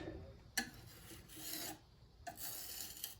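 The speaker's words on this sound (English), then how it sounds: "I'm just going to fill it in and scrape off the excess" Excess wood filler scraped off a standup desk keyboard tray, quiet rasping strokes in two longer passes separated by short gaps, with a small knock at the start of the first.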